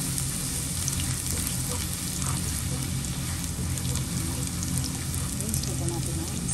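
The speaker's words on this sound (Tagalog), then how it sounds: "Gusto ko ikisa ko na lang konti ang bawang para lumagas sa kanyang aroma." Garlic sautéing in a pan for Filipino chicken caldereta, a steady, close, dense sizzle of frying that holds evenly throughout with no pauses.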